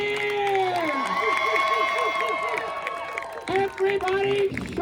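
Street show crowd in Jackson Square cheering on cue, a loud sustained roar of voices with shouts and some clapping, filling the scene before dropping briefly and surging again.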